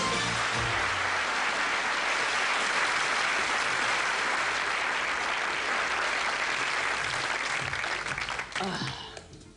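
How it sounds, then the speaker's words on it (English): A studio audience at a British TV game show applauds a contestant's correct choice with loud, continuous clapping that holds steady for several seconds before fading near the end. "I think that deserves a round of applause."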